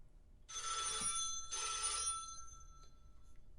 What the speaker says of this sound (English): Ringing Murray Hill 40098.